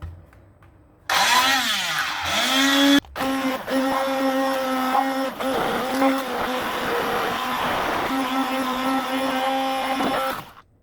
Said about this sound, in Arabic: غنطحن انا هنا غنستعمل هنايا الميكسور